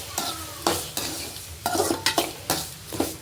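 Tomatoes fry in a pan for peanut chutney, with a low sizzle under a series of distinct scraping stirs and clinks from a spoon against the pan, coming in uneven bursts up close.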